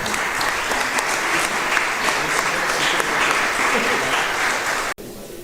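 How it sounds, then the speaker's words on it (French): Sustained audience applause at a weather forum, dense and even clapping for about five seconds before cutting off abruptly. "on peut l'applaudir pour son travail également"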